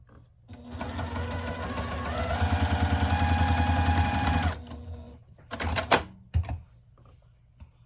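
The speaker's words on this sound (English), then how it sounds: "Just check underneath as you're sewing to make sure your seam didn't flip to one side, and then just continue sewing." A sewing machine runs steadily for several seconds, stitching a seam on a baby quilt top with a fast, even mechanical whir close by. It then stops, followed by a few short clicks and handling sounds.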